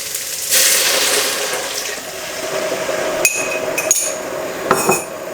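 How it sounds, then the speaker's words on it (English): Vegetable stock is poured into a cooking pot over already-fried onions, a continuous watery splash and fill with a few sharp clinks of metal or glass along the way, close up. "I'm going to add some vegetable stock"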